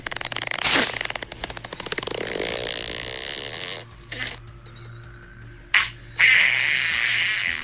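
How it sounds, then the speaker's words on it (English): Crackly fart sound effect blaring during a GTA minigame session, loud and sputtering for several seconds, cutting out briefly twice before resuming, with chaotic game noise beneath. "No more fart noise."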